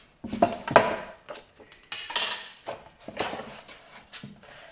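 Scissors cutting fabric at the 4 cm mark for a pocket square, giving a run of close, crisp snips and soft rubbing scrapes in uneven bursts, with no talking.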